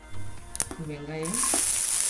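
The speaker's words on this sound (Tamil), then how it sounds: "பச்சை மிளகாய் கருவேப்பிலை கொத்தமல்லி எல்லாத்தையும் போட்டு நல்லா ஃப்ரை பண்ணுங்க." Green chillies, curry leaves and coriander fry in hot oil with a close crackling sizzle, and a voice speaks briefly over it.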